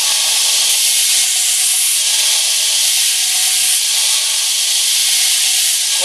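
A belt grinder sands the tip of a knife blade, a steady loud hissing rasp of abrasive belt against steel running continuously and close, with no talking.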